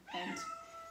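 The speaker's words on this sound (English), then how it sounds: "You can hear my cat in the background." A pet cat in a home kitchen gives one clear meow lasting just under a second. It sounds close and stands alone, with no other sounds.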